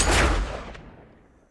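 A single gunshot fires in the video game Yakuza: Like a Dragon, a loud sharp crack with a booming reverberant tail that fades away over about a second.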